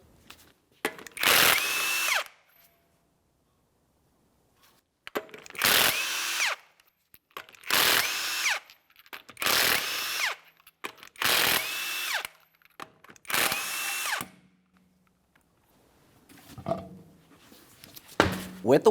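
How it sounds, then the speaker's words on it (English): Six bursts of a power tool ratcheting off the 22mm lug nuts on the front wheel of a 2017-2024 GMC Acadia, each loud, close whir lasting about a second or two, separated by quiet gaps, with faint clinks near the end. "we're going to remove all of our 22mm lug nuts and then the wheel"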